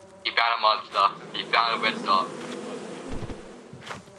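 Bees swarm around a beehive in the video game Lethal Company, a steady low buzzing drone sitting underneath excited overlapping player voices chatting over voice chat.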